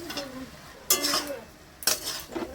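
A utensil scrapes and clatters in a cooking pan as potatoes and shrimp are stirred into Bengali red spinach. Two distinct clanking strokes come about a second apart, with a faint voice near the start.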